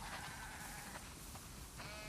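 A flock of sheep bleats in The Last of Us Part II, a couple of short wavering calls rising over a constant hum of ambient game sound, with no talking.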